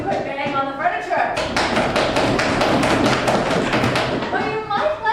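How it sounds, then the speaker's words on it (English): A crowd bangs on furniture in a loud, rapid barrage of overlapping thumps, with a voice speaking briefly before and after the banging. "or you could bang on the furniture."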